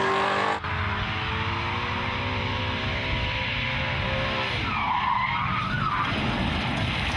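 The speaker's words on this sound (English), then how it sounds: "This is 2009 Powerskid winner Bruce Cox in his big block Camaro with last year's winning run." A big block Camaro slides sideways through a powerskid run, its engine roaring hard and tyres squealing continuously and loud, with a brief dip at the start before the howling skid carries on to the end.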